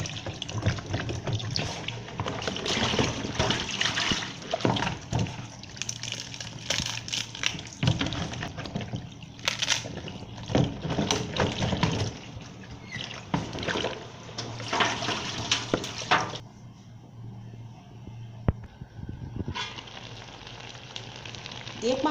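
A steady rush of running water and splashing continues while dry fish for Ekpang Nkukwuo is washed. The sound stays dense and close for most of its length, then thins to a quieter trickle near the end.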